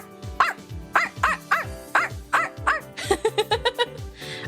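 A person imitates a small dog barking with a series of yappy vocal barks, first spaced at a steady pace, then quickening into a rapid run of short yips near the end, loud and close.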